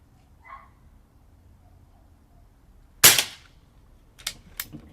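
A moderated Umarex Zelos .25 air rifle fires a single sharp, loud shot, followed by a few quick fainter metallic clicks; otherwise quiet room.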